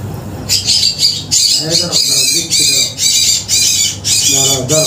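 A common myna chick squawks loudly and repeatedly in harsh, raspy bursts, close by and nearly continuous, over a low background hum.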